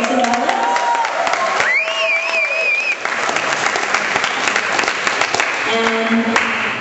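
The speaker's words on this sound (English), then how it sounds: "We want to have another big round of applause for La Evolucion Sacramento." Audience applause and cheering for the La Evolucion Sacramento performing team, a dense sustained wash of clapping throughout, with a few whistles and musical tones rising over it.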